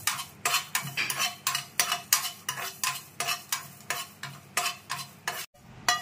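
Whole spices for nimki, including shahi jeera, a black cardamom, cubeb and curry leaves, are stirred in a pan with a spoon. The spoon scrapes in a steady rhythm of about two strokes a second over a faint sizzle, loud and close.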